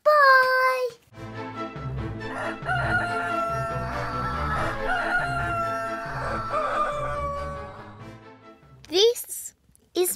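Rooster crowing, a loud, bright cock-a-doodle-doo that opens the sound and is followed by a stretch of music, with a shorter rising crow-like call near the end.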